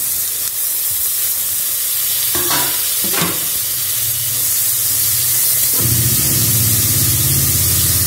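Tomatoes tipped into a pan of softened onions sizzle and fry steadily, with a couple of scraping stir strokes early on and a fuller, louder hiss of frying in the final seconds.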